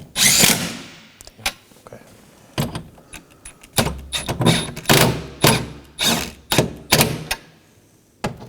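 A power drill drives window regulator bolts in the door of a 2018-2024 Chevrolet. It gives about a dozen short, sharp whirring bursts separated by brief pauses and light metallic handling clatter.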